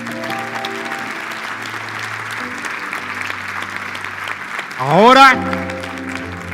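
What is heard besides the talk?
church congregation applauding loudly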